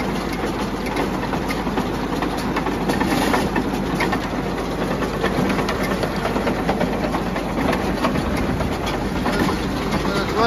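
A New Holland 469 haybine mower conditioner, running without crop and with a roll tension fault, runs steadily with a loud, rattling mechanical clatter and constant whir, close by and unbroken throughout.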